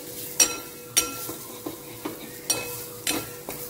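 Drumstick vegetable ingredients are sautéed in a pan with very little oil: a faint sizzle runs under repeated sharp spatula scrapes and clinks against the pan at an uneven, steady pace.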